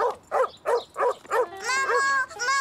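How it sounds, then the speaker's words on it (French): Angry cartoon dog in a Caillou episode barking five times in a steady rhythm, then a drawn-out whimpering yelp, loud and close with no talk. "Le chien avait l'air d'être en colère."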